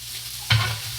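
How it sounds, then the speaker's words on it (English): Paella sizzles in the pan as it is stirred, a sudden scraping rush of frying hiss that swells sharply and then settles into a steady crackle over a low hum. "The food is sizzling."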